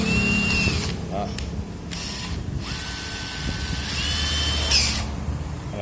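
Cordless battery-powered drill/screwdriver with a 13 mm chuck and adjustable clutch, whirring in short bursts at varying speeds, with pauses between runs and a clicking ratchet-like sound at moments, fairly close and alone.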